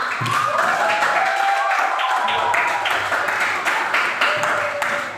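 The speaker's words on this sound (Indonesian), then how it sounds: "Oke, tepuk tangan buat kita semua." Children clap together in a classroom, a loud, steady patter of many small hands lasting several seconds, with bits of voices mixed in.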